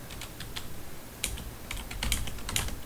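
Keys clatter on a computer keyboard as a command is typed into a Cygwin terminal, quick irregular taps up close, some louder strokes near the end, with no talking.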